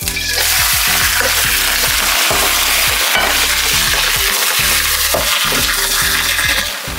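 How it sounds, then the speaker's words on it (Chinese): Green beans stir-frying in oil in a large wok, a steady loud sizzle with repeated scraping stirs of the ladle, close and continuous with no talk. "我们把大勺润完了以后，是不是加点油，把豆角炒一炒"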